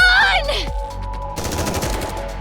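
Gunfire in the video game Goddess of Victory: Nikke: a swooping electronic tone gives way to a dense, continuous burst of rapid shots that holds steady and loud to the end.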